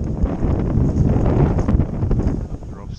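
Steady wind buffets the microphone on an open golf course at Doncaster Town Moor, a continuous low roar and rustle that fills the whole stretch and fades slightly near the end.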